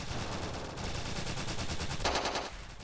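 ACR rifle fire during an aircraft carrier assault in the Ravenfield mod, a constant dense roar of automatic gunfire with rapid pulsing shots, loud and unbroken throughout.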